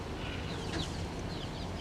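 Backyard chickens in a coop giving soft, faint clucks and short calls against a low steady background hum.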